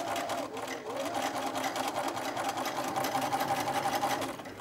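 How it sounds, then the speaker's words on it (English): A sewing machine runs steadily, stitching ruffles onto a diaper cover with a fast, even mechanical whir that continues for several seconds, close and clear. "I try to stitch on top of my stitches that I did from ruffling it"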